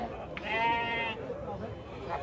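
At a goat and sheep market in Campina Grande, Paraíba, a sheep lets out one clear, wavering bleat close by while people talk around it.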